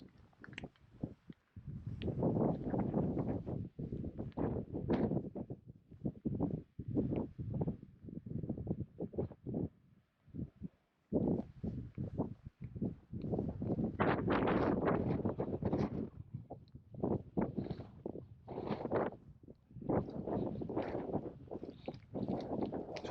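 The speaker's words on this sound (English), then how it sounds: "It's too windy." Strong gusty wind on the Isle of Harris and Lewis buffets the microphone in loud, rumbling bursts with brief lulls between them, no voices present.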